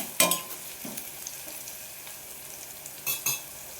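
Onions frying in a pan while a spoon stirs them, cooked for a sprouts palya: a quiet sizzle under a few brief scraping strokes, with two paired scrapes near the end.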